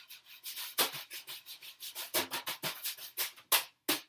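A wire brush scraped and swept rhythmically across a bodhrán's drum head, a close, soft series of raspy swishes with a few sharper accented strokes, heard alone.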